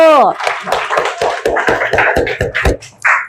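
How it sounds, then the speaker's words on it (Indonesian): Students in an Islamic religious education class applaud group 1 with a run of sharp, rhythmic claps, about a dozen distinct beats, up close and loud, after a brief voice at the start. "tepuk tangan dong buat kelompok 1"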